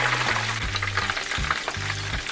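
Halfbeak fish deep-frying in oil that is below frying temperature. It gives a steady, close sizzle and bubbling crackle, with low tonal hums and stirring under it, and no voices.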